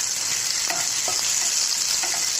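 Cashews and raisins fry in hot ghee, a bright, constant sizzling hiss up close, with a few soft clicks of a spoon stirring through the nuts, brief and without any voices.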